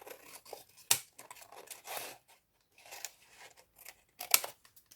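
Scissors cut paper for a scrapbooking box in a few short, close snips and crisp rustles, with quiet pauses between the cuts.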